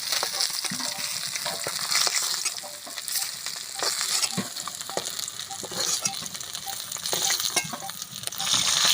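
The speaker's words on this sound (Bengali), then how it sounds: "মাছগুলো ভাজা হয়ে গেছে" Pieces of desi mrigal fish fry in hot oil in a village kitchen, a loud continuous sizzle broken by the clatter of turning and stirring.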